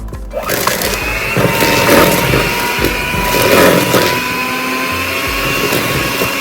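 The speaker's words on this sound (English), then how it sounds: "Now it's time to take our sugar and butter for a little spin." An electric mixer spins sugar and a stick of melted butter for oatmeal raisin cookie dough, making a steady, fairly loud whirring drone with gritty scraping that rises and falls slightly throughout.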